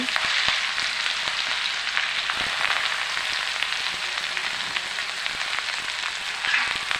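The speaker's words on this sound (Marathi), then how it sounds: "तेल तापल्यानंतर त्याच्यामध्ये मोहरी, लसूण, मिरची टाकून घेतली" Mustard seeds, garlic and green chili hit hot oil in a kadhai with a constant close hiss of frying and scattered tiny pops and crackles from the seeds, with no talking.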